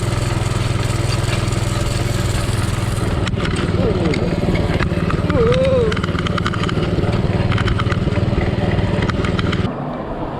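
A mini bike engine with big beefy wheels runs steadily on sand, a loud continuous drone that rises and falls in pitch, with voices talking faintly over it before the engine note drops near the end.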